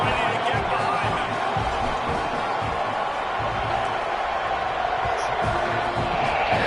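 A stadium crowd in a college football video game roars steadily as the teams set up for a fourth-quarter kickoff, a dense, continuous wash of cheering with a commentator's voice running over it.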